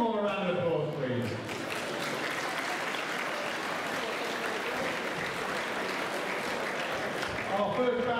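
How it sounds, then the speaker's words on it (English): An audience at a K1 kickboxing event applauds the officials and timekeeper, steady broad clapping filling the whole stretch, with a voice over the PA at the start and end. "Give them all a round of applause,"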